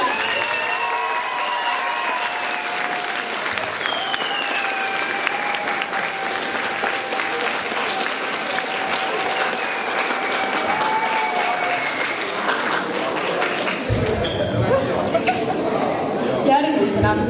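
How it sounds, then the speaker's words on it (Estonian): Applause from a school audience for the 11th grade class at a Christmas party, sustained clapping over about seventeen seconds with voices and chatter mixed in, swelling louder near the end. "Aplaus 11."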